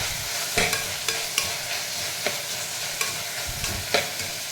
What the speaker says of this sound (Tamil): இது நல்லா வதக்கி விட்டுக்கலாம்.